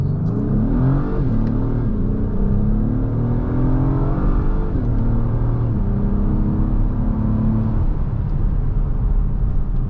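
A 2024 Acura MDX Type S Advance SH-AWD pulls away hard from a complete stop, its engine revving up through the gears with rising, falling pitch sweeps as it upshifts automatically, loud and continuous from inside the cabin.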